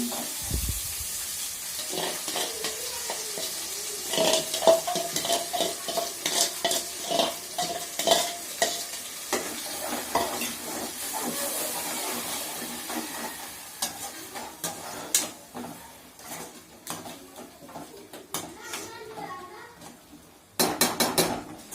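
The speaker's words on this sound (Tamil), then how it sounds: "நல்லா பச்சை வாடை போகிற வரைக்கும் நல்லா வதக்கிக்கிடுவோம்" A ground spice paste sautés in a pan for a chicken dish, frying hiss mixed with repeated scraping and clinking of a utensil against the pan, fairly quiet and without speech.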